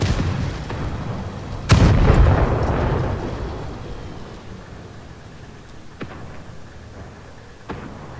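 In World of Tanks, a shell strikes a tank's cannon with one loud, booming impact. A long rumbling decay and a few fainter distant thuds follow.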